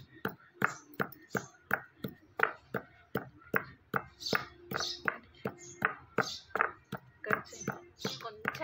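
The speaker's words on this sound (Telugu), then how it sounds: "వీటిని ఎట్లా అంటే ఇట్లా వక్క ముక్క దంచుకోవాలి" Steady rhythmic thuds of green chillies, garlic, cumin and sesame seeds being coarsely pounded in a mortar, each strike sharp and close, repeating at a brisk even pace without talk.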